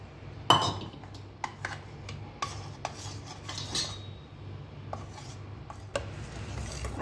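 Mixed multani mitti and aloe vera are tipped into a bowl of liquid soap base, giving a sharp clink of a utensil against the bowl followed by soft scraping and stirring taps, close and moderately quiet with no talking.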